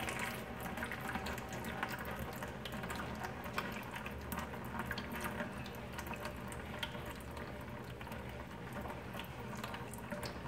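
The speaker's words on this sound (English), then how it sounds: "Oil will start coming out." Hydraulic oil drains from the canister filter of an Oliver 1755 tractor, a steady, continuous liquid trickle and splash running throughout at moderate volume with no talk.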